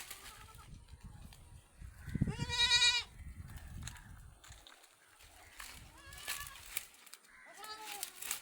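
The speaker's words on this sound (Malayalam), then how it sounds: "2 മലബാരി മുട്ടൻകുട്ടികൾ." Two Malabari male goat kids bleat at a livestock market, with several short, wavering cries at close range, one louder and longer than the rest, amid faint shuffling and background noise.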